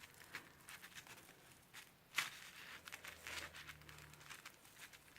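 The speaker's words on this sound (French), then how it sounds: "Donc je vais passer un nœud, un ruban ici d'organza." Organza ribbon handled and tied into a bow while making a shabby-style Christmas star: soft, quiet crinkling and rustling in short bursts, with one sharper crisp rustle and faint handling noises.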